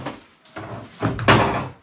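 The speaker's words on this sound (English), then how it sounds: "The door. It opened." An old door in an abandoned house swings open, a few scraping creaks and knocks building to a louder thump near the end, close by with no voices.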